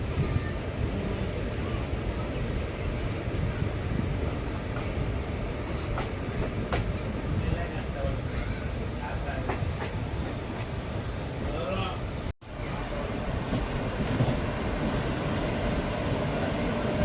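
The Erode–Mettur Dam express train runs steadily, a continuous loud rumble of wheels and carriage noise with faint clattering, heard from on board and broken by one brief dropout near the end.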